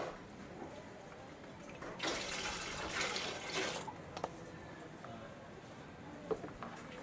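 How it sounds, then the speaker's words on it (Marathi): Plain water is poured into a container while preparing a papaya-leaf farm input, a brief splashing gush lasting under two seconds amid a quiet background, followed by faint knocks. "याच्यासाठी आपण सुरुवातीला टाकणार आहे 3 लिटर साधं पाणी"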